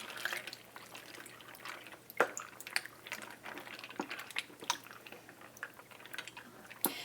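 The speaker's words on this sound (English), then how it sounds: "now I'm going to be mixing those ingredients together" Quiet, wet squishing and soft clicks as diced tomatoes, creamy tomato soup, tortellini and frozen spinach are stirred together in a crock pot, with irregular gentle sloshes close by.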